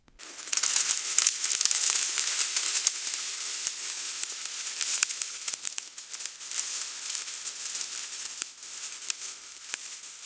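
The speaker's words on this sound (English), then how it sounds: "Place it on the pan and let it sizzle." Fish grills in a hot pan over high heat, a steady loud sizzle with crackling pops that eases slightly over ten seconds, with no one speaking.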